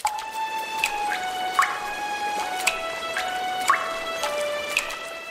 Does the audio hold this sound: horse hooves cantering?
no